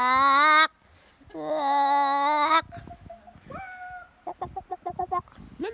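A small chicken found in a forest makes loud, close, harmonic squawking calls in two long bursts, then softer rising notes and a quick run of short clucks.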